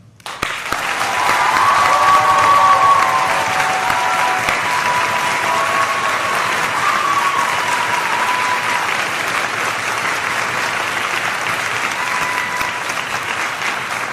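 Sustained audience applause at a high school senior honors concert, a dense, even wash of clapping from a large crowd that rises quickly and holds steady, with faint voices beneath.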